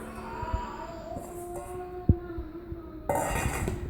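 A spoon stirs apple pie ingredients, including a cup of brown sugar, in a bowl, giving a few light clinks and scrapes against the dish, close and moderately quiet.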